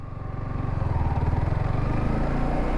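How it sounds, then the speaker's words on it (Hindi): Motorcycle engine pulsing as the rider shifts from first to second gear, a close, steady rhythmic thrum that builds slightly in loudness. "हमने क्लच दबाया एंड क्लच जब दबाया आपने तो एक्सेलरेटर को छोड़ दिया, फिर आपने वापस सेकंड गियर में शिफ्ट करके एक्सेलरेटर को देना शुरू करा"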